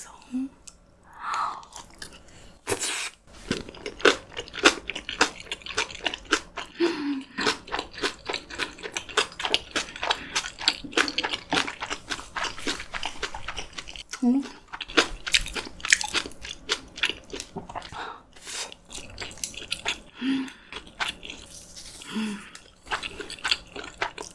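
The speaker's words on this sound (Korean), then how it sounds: "겉절이는 커서 이렇게 쭉쭉 찢어 먹을게요" Spicy fresh geotjeori kimchi, torn by hand, is eaten with white rice, Spam and steamed egg. Close, steady crunching and chewing bites repeat throughout, with brief soft talk in places.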